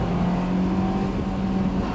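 Honda S2000 sports car driving in Japan, a loud steady engine drone with a sustained tonal hum and road noise from inside the cabin, no talking over it.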